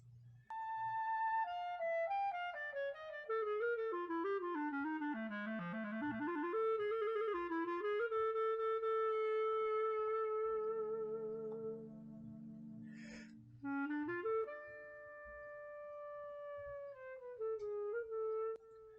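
A clarinet plays a long, fairly quiet melodic line of sliding and stepping notes, with a short pause and a brief higher squeak before the phrase resumes and settles on held tones.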